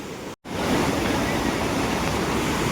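Water rushing with force over the spillway of the Vani Vilasa Sagar dam, a steady, loud broadband roar that carries without a break after a brief dropout near the start.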